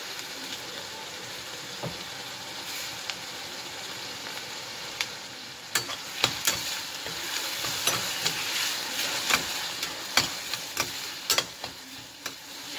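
Medium tomatoes sauté with potatoes in a pan for a thick tomato potato gravy, a continuous sizzle under a run of sharp ladle taps and scrapes that grow frequent in the second half.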